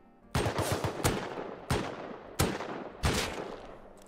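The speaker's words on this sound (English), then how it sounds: "That scientist is probably gonna shoot me, the one on the roof." A scientist on a roof fires at the player in Rust, producing a quick burst of shots followed by single loud gunshots at roughly even intervals, each with a ringing tail; no voices.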